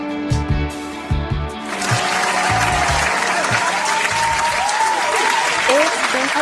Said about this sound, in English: Round of applause for Miss Rochelle, man.